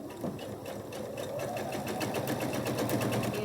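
A sewing machine stitches quilt fabric for a lattice square quilt block, a quiet, steady run of rapid needle clatter with no talking.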